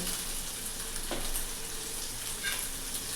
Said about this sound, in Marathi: आता हे छान परतवून घ्यायचं गॅस कमीच ठेवायचा